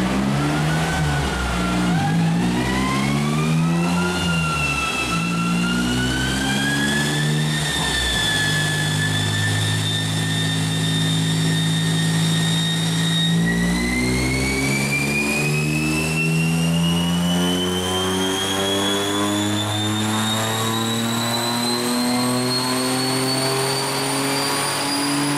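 A car's engine revs hard on a dynamometer during a second pull, with an air-fuel sensor fitted while it runs slightly rich. The pitch climbs steadily across the run in one loud, sustained rising roar, with no voices.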